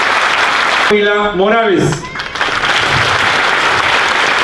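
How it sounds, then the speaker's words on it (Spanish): Loud audience applause at an outdoor community event for the CONAFE national crusade, honoring the governor; a voice speaks briefly over the steady clapping near the start, and the crowd keeps applauding throughout. "Vamos a brindar un fuerte y caluroso aplauso."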